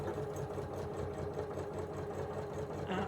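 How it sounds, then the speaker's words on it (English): A sewing machine runs continuously stitching a quarter-inch seam around a fabric book cover, a close, steady rapid mechanical whir with fine repeating needle clatter and no voices. "So I'm now going to sew around the outside, 1/4 inch seam allowance."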